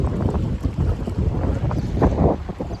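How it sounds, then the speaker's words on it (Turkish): Steady wind buffets the microphone by the sea in Izmir, a constant rough rumble with gusts swelling and fading, no voices. "hava rüzgarlı, birazcık esintili"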